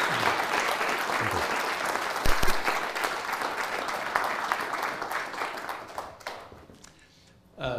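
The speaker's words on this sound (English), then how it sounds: "So let's give them a big round of applause." An audience gives a lecture speaker a big round of applause, a dense burst of clapping that holds for several seconds, then thins and fades near the end.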